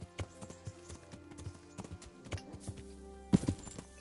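Horse hooves clip-clopping in the medieval game Kingdom Come: Deliverance, a brisk, even run of sharp hoofbeats close by with one heavier thud near the end.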